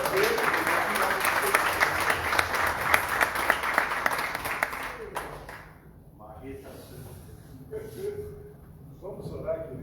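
A church congregation breaks into loud, dense applause for about five seconds, which then fades out, leaving quieter room sounds and a voice speaking briefly over the tail.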